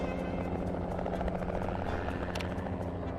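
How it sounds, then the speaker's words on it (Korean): A helicopter approaches with a continuous, loud rotor chop and engine drone, pulsing steadily throughout with a faint voice briefly underneath. "헬기도 오고 있습니다"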